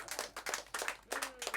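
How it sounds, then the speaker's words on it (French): Audience applauding in bursts, a small crowd clapping close by in uneven waves for over a second. "on peut l'applaudir très fort"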